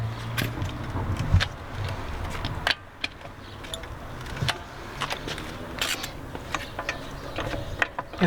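A car jack raising a BMW 440i F32 coupe after its wheel nuts have been loosened, giving close mechanical ratcheting and clicking in uneven bursts, with a sharper clack near the start and a few louder clunks later.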